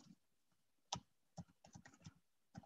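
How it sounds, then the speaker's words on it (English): Typing on a computer keyboard, a few quiet, irregular key clicks and taps close by with no talking. "let's assume I'm typing a journal here."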